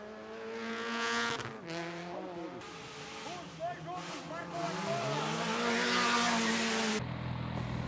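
Rally cars racing flat out on a timed stage of the South American Rally Championship, engines revving and rising in pitch as they pass, with a brief tire squeal and continuous loud motor noise over crowd-like background.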